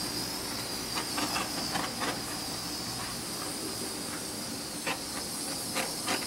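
A torch passes over freshly poured epoxy resin on candle holders, a steady close roaring hiss broken by short crackling bursts, with no talk.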